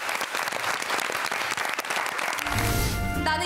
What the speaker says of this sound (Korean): 박수로 만나보겠습니다